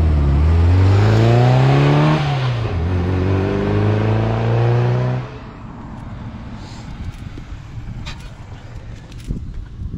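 A 1965 Singer Chamois car drives up and down a road. Its engine roars loudly, climbing in pitch twice as it accelerates, then drops to a quieter rumble with light rattles.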